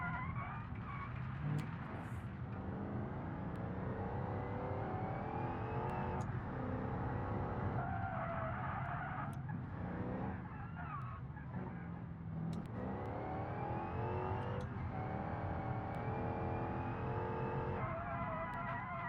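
A car driving along and revving its engine repeatedly, with rising and falling acceleration sweeps over a steady road rumble, heard up close for a sustained stretch.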